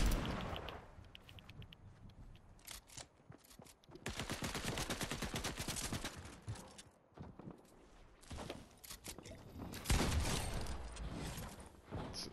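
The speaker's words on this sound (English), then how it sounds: "I was shooting at them." Fortnite gunfire in rapid automatic bursts, repeated volleys of sharp shots that start and stop across the stretch with a few gaps between them, fairly quiet overall.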